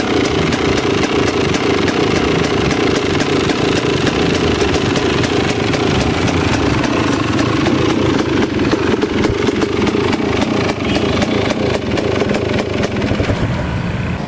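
An MPX300 motorcycle engine idles steadily and loudly up close for about fourteen seconds, a constant throbbing rumble with a rapid, even pulse and no talking.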